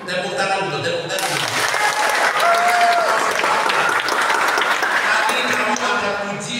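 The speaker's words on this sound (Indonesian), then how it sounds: "Tepuk tangan dulu, tepuk tangan." Seminar audience at a religious gathering in Sorong breaks into loud, sustained applause that fills the room steadily for several seconds, with a few voices and cheers mixed in.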